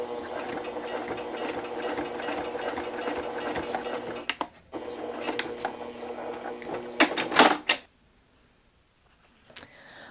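A sewing machine top-stitches a fabric bookmark made of dark fabric, with a fast mechanical whirr running steadily for several seconds. Short bursts and clicks follow as the machine stops, then near silence with a faint tap.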